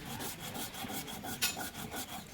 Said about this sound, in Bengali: এখন কালো জিরাটা বেটে নিচ্ছি